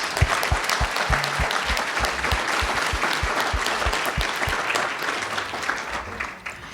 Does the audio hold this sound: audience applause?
yes